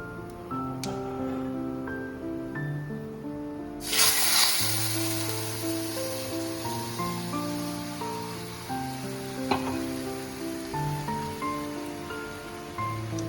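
Boiled dal is poured into a hot tempering of spices for a sour green mango dal. A burst of sizzling erupts and then settles into a steady crackling hiss beneath background music.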